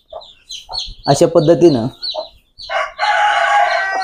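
Hens cluck among two-day-old free-range village chicks while a rooster crows, with a short spoken phrase over the clucking and a loud, sustained crowing-like call near the end.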